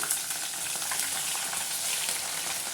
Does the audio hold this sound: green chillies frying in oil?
yes